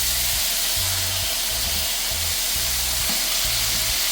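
Bourbon-glazed pork chops sizzle and hiss loudly in a hot pan just after being flipped, a dense continuous frying crackle with a low rhythmic thumping underneath.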